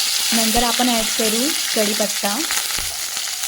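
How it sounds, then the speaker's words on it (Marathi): Cumin and mustard seeds sizzle steadily in hot oil in a pan, a close, constant frying crackle beneath a woman's spoken cooking instructions. "त्यानंतर आपल्याला परत ऑइल घेऊन जिरं आणि मोहरी टाकायची आहे."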